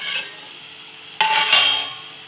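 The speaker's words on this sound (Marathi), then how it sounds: "आता आपण डिश काढून घेऊया." A covering dish is lifted off a cooking pot of spicy fish curry, giving two short metallic clinks and scrapes about a second apart over a faint kitchen hiss.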